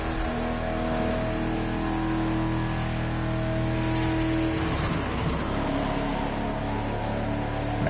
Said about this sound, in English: this engine sounds awesome